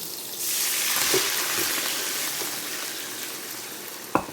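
Pork for calderita frying in a pan, a steady broadband sizzle running the whole time with a couple of faint stirring scrapes and a sharp clack near the end.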